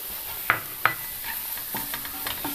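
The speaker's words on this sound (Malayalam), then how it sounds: "ഇത് പൊടികൾ ചെറുതീയിൽ വെച്ച് തന്നെ ഒന്ന് പച്ചക്കുത്തൽ മാറുന്നത് വരെ നന്നായിട്ടൊന്ന് വഴറ്റിയെടുക്കണം." Garam masala and pepper powders sautéed over a low flame for a palak chicken curry, with a couple of sharp spoon scrapes against the pan followed by soft stirring and a faint sizzle, close and without talk.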